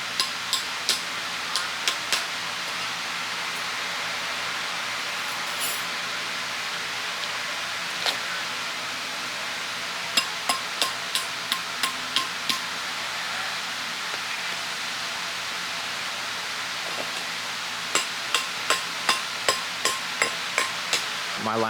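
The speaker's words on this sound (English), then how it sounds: "Got my nice hammer." A hammer staking down garden water lines outdoors on a farm, with several bursts of sharp, rapid taps repeated over the clip against a steady background hiss.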